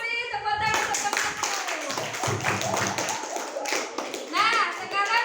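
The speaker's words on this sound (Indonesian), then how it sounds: "Terima kasih, tepuk tangan untuk kamu." Children clap together in a classroom, a dense patter of hand claps running throughout with kids' voices and chatter mixed in, fairly close and steady.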